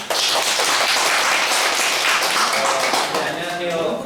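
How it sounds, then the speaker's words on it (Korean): An audience at a forest-education program session applauds to welcome a research institute presenter, dense steady clapping filling the room at an even level for about four seconds. "박수로 부탁드립니다"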